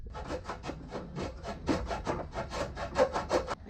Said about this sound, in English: I might just use the hacksaw